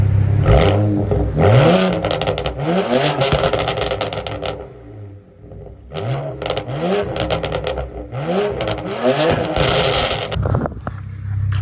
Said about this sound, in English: downpipe, straight pipe all the way, it's not that bad until you rev it